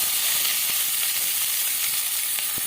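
Chopped onions frying in a pan of oil for a Bengali Tangra fish curry, giving a steady close sizzle with faint stirring clicks and no talk.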